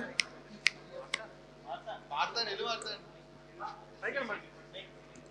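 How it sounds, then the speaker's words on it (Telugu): A few sharp finger snaps from an audience at a film team's roast event, spaced out at the start, then people talking. "గట్టిగా చిటికలు ఒకసారి అందరూ"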